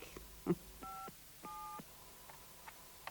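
Tones from a telephone keypad beep as a number is dialed: a short sequence of separate electronic tones, one of them held longer, each followed by a pause, quiet and clear with no voices.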